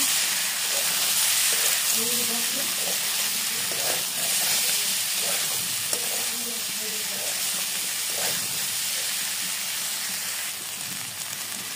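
Egg curry masala with a little sugar frying in a pan, a steady loud hiss and sizzle running throughout with faint stirring beneath.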